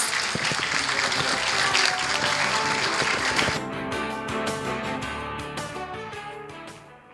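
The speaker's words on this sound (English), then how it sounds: "Please join me in giving a warm round of applause." An audience at the opening ceremony of the first KOICA-JICA Forum on International Volunteering gives a steady round of applause that gives way to music and fades out.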